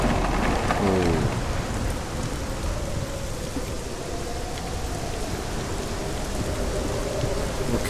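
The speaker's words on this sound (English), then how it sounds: "Okay, so we're in a storm by the look of it." A storm in Hellblade: Senua's Sacrifice, with steady heavy rain hissing throughout and a low rolling thunder rumble early on, continuous and enveloping with no voices.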